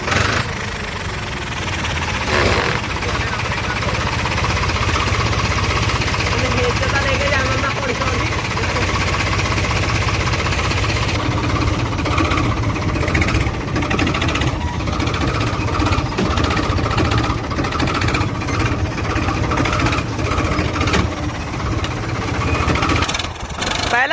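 A tractor engine freshly fitted with a turbo runs steadily under test on a farm, its loud continuous drone and whine filling the whole span while people talk over it.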